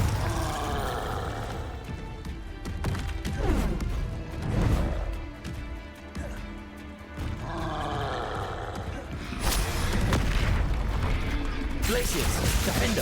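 Spell blasts and explosions in the video game Hogwarts Legacy, a dense, loud roar of magical impacts, crashes and mechanical rumbles that carries on almost continuously, with a player's voice calling out over it.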